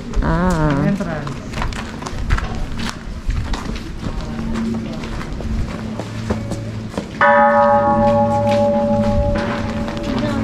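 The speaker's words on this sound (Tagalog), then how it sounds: "Ring the bell and then hit the bell and then you make a wish." A temple bell being struck at Yamadera in the Japanese countryside, a sustained ringing tone near the end, with talking and footsteps around it earlier.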